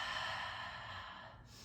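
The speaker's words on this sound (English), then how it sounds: "Deep breaths." A slow, deep breath drawn during yoga practice, a soft steady airy exhale heard close and alone with no talking.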